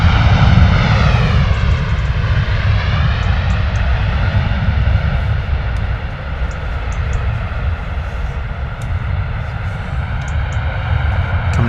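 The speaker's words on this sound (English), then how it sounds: "Just in time to catch the end of the rollout of this Ryanair arrival." A Ryanair airliner arriving from Riga rolls out along the runway after landing at Stansted, its jet engines roaring loud and steady throughout with a broad rushing whine that eases only slightly toward the end.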